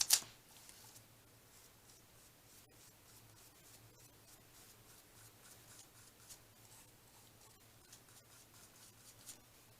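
Scissors cut paper for an embellished tea bag craft, a faint, steady series of small snips and rustles after one sharp opening knock, close but quiet, with no talking.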